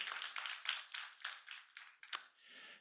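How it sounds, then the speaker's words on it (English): Applause for the startup Metabix at an innovation awards final, a fairly quiet, thin round of clapping from a modest audience with irregular claps at a steady pace, fading toward the end. "A round of applause for Metabix."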